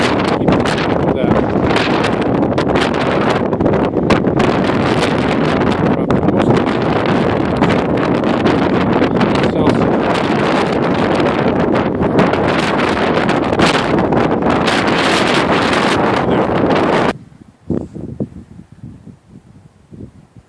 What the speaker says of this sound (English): Here I'm able to get out of the wind a little bit.